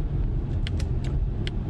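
A Polestar 2 electric car accelerates on the road, heard from inside as a low steady rumble of tyres and road noise with a few brief light clicks or rattles in the cabin.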